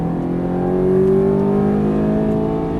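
Ferrari F430 accelerating on a racetrack, its engine note climbing steadily in pitch as the revs rise, loud and sustained from inside the car with no talk over it.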